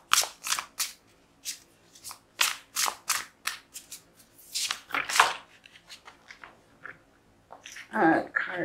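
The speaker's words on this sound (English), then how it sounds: "One more shuffle." Tarot cards are riffled and cut close to the microphone in a series of sharp, crisp shuffles with short pauses, ending in a messier flurry, with a soft voice speaking between them.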